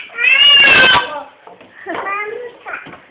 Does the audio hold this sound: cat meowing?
yes